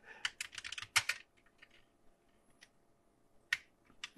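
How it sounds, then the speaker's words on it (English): Keys clatter on a vintage Tandy TRS-80 Color Computer 1 keyboard, a quick run of close, crisp keystrokes, a short pause with a few scattered taps, then another burst of presses near the end. "Let's just type on this thing."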